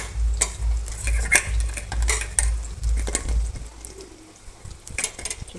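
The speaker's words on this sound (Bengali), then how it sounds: "থালকুনি পাতার বড়া ভাজতেছি।" Thankuni leaf fritters frying in a pan, with steady broadband crackle and sizzle, repeated scraping and clinking of a utensil against the pan, and a low rumble underneath.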